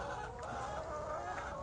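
Chickens cluck steadily on a homestead farm, a close and continuous flock chatter that fills the short clip with no voices over it.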